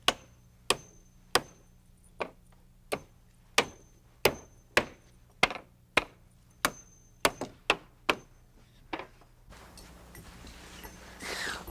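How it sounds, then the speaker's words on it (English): Sharp hammer blows drive 8-penny nails into a wooden stair riser board, a steady series of about fifteen close, loud strikes. The pace quickens toward the end, and noisy shuffling follows. "I start at the bottom by nailing on the first riser with 8-penny nails"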